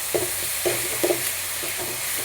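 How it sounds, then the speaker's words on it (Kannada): Salt, onion, green chilli and tomato are stirred together in a hot pan, giving a steady sizzle with several short scraping strokes of the spoon in an uneven rhythm, close up. "ಉಪ್ಪು ಈರುಳ್ಳಿ ಮೆಣಸಿನ್ಕಾಯಿ ಟೊಮೊಟೊ ಎಲ್ಲ ಹಾಕ್ಕೊಂಡು ಮಿಕ್ಸ್ ಮಾಡಿಕೊಂಡು"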